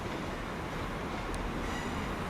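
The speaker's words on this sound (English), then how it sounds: "out goes the 1110 Northern Service to Chester" A Northern Class 156 diesel unit, 156406, pulls out of Manchester Piccadilly on the 11:10 service to Chester, giving a steady broadband rumble of engine and wheels with a brief high squeal near the end.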